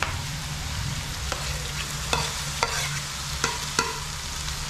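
Roasted eggplant is stirred into onions frying in a pan, giving a steady sizzle with several sharp scraping clacks of a spoon, close and alone without speech.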